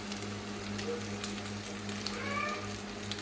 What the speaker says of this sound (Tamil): 2 கைப்பிடி கருவேப்பிலை சேர்த்துக்கலாம். இது நல்லா எண்ணெயில் பொரியட்டும்.